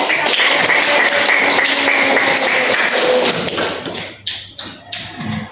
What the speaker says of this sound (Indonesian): Boleh tepuk tangan buat dia.